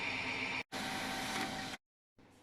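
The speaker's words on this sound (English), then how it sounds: "Let's print this one." A machine printer in a workshop testing cast iron impellers prints a measurement readout: a steady mechanical whir runs about a second, pauses briefly, then a quieter stretch of printing follows.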